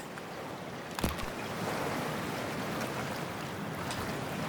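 Cold sea water in the Cyberpunk 2077 game, a soft continuous wash of waves and water with a brief splash near the start, fairly quiet and steady with no talk.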